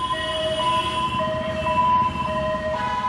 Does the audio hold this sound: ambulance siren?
yes